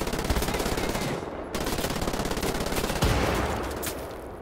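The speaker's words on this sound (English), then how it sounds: "That submachine gun's gotta stop." Submachine gun fire in the Wolfenstein: The New Order video game, loud rapid sustained bursts in three long rattling volleys, close and dense with no pauses beyond brief breaks.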